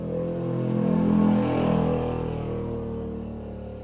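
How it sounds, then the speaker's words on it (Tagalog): Motorcycles pass by outside an open window, a steady, fairly loud engine drone that swells and fades slightly over a few seconds, with no talking. "nabibingin na po ako sa boses ng mga motorsiklo, mga palangga"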